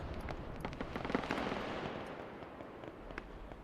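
Aircraft cannon fire during a gun run in the Arma 3 video game, a dense crackling burst of rapid shots with a rumbling roar that slowly fades.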